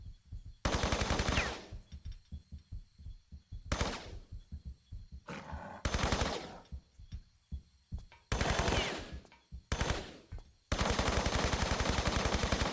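Gunfire in the video game Tomb Raider 3 Remastered: loud sustained automatic bursts alternate with rapid single pistol-like shots, all close and sharp, with no talking over them.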